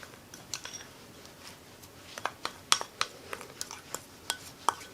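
Chamnamul, onions and green onions are tossed with seasoning sauce in a bowl, giving soft, irregular clinks and taps of a utensil against the dish over a quiet background.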